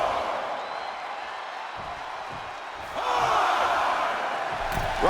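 Wrestling arena crowd in WWE 2K24 roaring and cheering, a broad, continuous wash of voices that swells louder midway, with scattered whoops rising above it.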